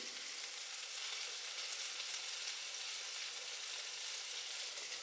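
Oil hits hot coal to give a chicken tikka masala a smoky flavor, producing a steady, even, close hiss of sizzling that holds constant throughout, with no talking.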